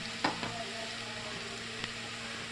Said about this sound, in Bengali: পেঁয়াজটা একটু ভাজা হলে এখন এর ভিতরে সব মশলা এক একে দিয়ে দিব।